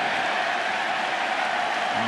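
Crowd at a baseball stadium during an American League Championship Series playoff game applauding and cheering, a steady distant roar of clapping and voices with no pauses.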